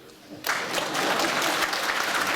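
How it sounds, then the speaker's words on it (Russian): Audience applause breaks out in a congress hall during a regional leader's speech at the Khakassia congress, a sudden loud, dense clapping that starts after a brief quiet and holds steady to the end. "Хлопайте пока."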